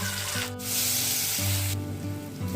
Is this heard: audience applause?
no